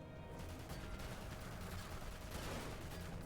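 Rapid bursts of gunfire in the video game Dirge of Cerberus: Final Fantasy VII, dense crackling shots packed closely together across the whole stretch at a fairly low level.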